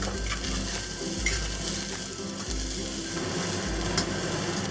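Garlic and onion stir-fry in hot oil in a pan over medium-high heat, a steady sizzle under repeated scraping and clinking of a utensil against the pan.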